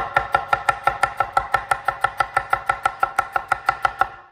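A knife finely chops a medium onion on a board in a fast, even rhythm of about twenty crisp strokes, close and clear with no talking.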